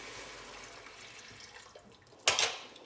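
Water poured into a pan of vegetables and parsley while making cannelloni, a short bright splashing gush arriving near the end after quiet kitchen background.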